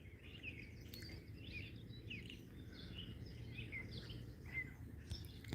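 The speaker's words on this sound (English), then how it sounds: "This bird sounds so nice." Bird singing outdoors beside water, a quick run of bright chirping phrases repeated continuously, soft and somewhat distant over low rumbling background noise.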